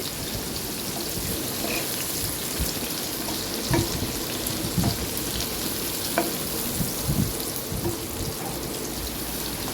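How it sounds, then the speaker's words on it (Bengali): Onions fry until crisp for beresta in a pan on one side of the stove, giving a continuous close sizzle with small crackles and pops throughout and no voices. "এবার চুলার অন্য পাশে আমি পেঁয়াজ বেরেস্তা করে নিব পেঁয়াজ দিয়ে দিয়েছি"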